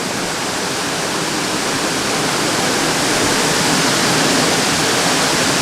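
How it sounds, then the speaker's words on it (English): Waterfall heard from behind the falling water in the North Carolina Highlands, a loud, unbroken broadband rush that stays constant throughout with no talking. "It's a pretty neat place to be behind a waterfall."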